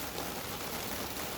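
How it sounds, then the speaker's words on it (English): Steady rain falls during a thunderstorm at the water's edge, a dense, even hiss of drops with no talking over it. "Excuse the rain, folks. We've got a thunderstorm going on here today."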